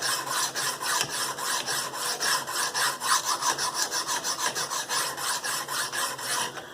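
Rhythmic rasping strokes of a CPM S110V steel knife drawn across a sharpening stone, close and clear, repeating at a brisk, even pace of roughly four strokes per second with no voices.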